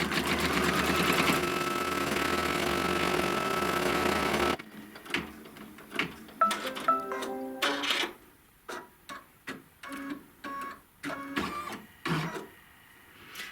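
An embroidery machine stitching a tack-down line hums steadily at first, then breaks into rapid stop-start bursts of mechanical needle chatter and clicks, close and loud.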